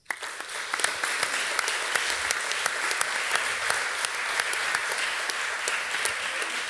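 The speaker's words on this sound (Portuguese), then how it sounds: "Para as nossas crianças, um grande aplauso." A crowd applauding steadily throughout, dense clapping at an even level with sharper individual claps popping out, no voices over it.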